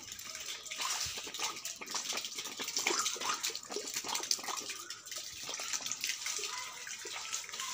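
Water pours and splashes steadily onto garden plants, including chilli, lemon seedlings and Malabar spinach, in a near, continuous gush with faint background ambience and no speech.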